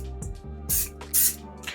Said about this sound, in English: hit it with a little bit of avocado oil just for a binder. I don't need much, just a little spray